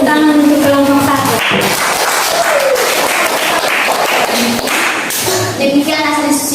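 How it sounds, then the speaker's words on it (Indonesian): Students in a classroom clap for a presenting group, with loud, close hand claps and thumps running under voices and some musical or tonal sound. "kita tepuk tangan untuk kelompok 1"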